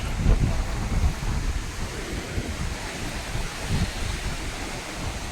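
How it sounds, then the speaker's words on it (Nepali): Strong wind blows in a continuous broad rush with low gusty rumbles against the microphone at an irrigation structure, no voices. "कस्तो हावा चलिरहेछ है"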